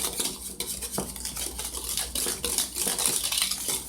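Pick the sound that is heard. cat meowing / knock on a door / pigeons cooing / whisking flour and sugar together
whisking flour and sugar together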